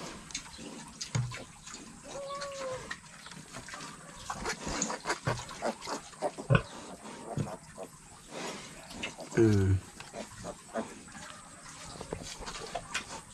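A native sow giving birth on a farm, with occasional piglet squeals and grunts amid shuffling and splashy rustling, fairly close, scattered irregularly.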